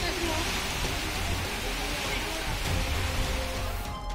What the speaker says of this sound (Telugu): బైంసా మండలం వాలేగాంలో అకాల వర్షం కురిసింది.